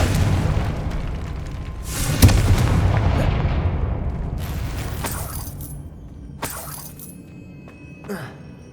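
A Confringo fire spell in Hogwarts Legacy bursts with a heavy boom and crackling debris, then fades, followed by two smaller sharp impacts later on.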